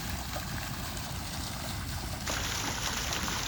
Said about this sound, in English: Particularly like this little water fountain.